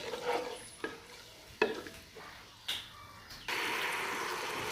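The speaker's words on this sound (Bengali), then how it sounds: "তারপর যে পেস্টটা অ্যাড করে দিলাম। এখন এগুলো একটু ভালো করে কষিয়ে নিব।" Spice paste with chopped tomato being stir-fried in a pan for a bottle gourd and fish curry with coconut milk, giving a few scraping stirs over a faint sizzle that swells into a steady louder frying hiss near the end.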